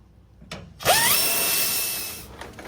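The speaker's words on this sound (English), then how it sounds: "So let's continue with tightening that shackle." A power tool spins up to tighten the leaf spring shackle bolt on a GM 1500 truck, giving one sustained whirring burst with a rising whine lasting about a second and a half before it cuts off.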